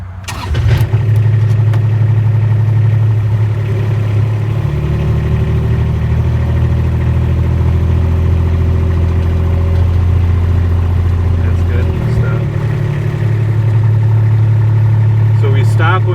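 A turf sprayer vehicle drives along one side of a golf tee box, its mid-pitched engine droning loud and steady with a slight shift partway through, while a person talks over it.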